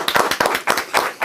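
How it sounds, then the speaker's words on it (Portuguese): A brief burst of hand clapping for guest Marcelinho Carioca on a Brazilian football talk show: several quick, close, uneven claps in a short rhythmic run, with no voices. "Aplausos para Marcelinho!"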